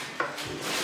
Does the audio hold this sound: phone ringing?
no